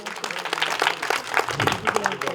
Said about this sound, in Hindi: इसलिए फिर से एक बार जोरदार तालियां इनके लिए।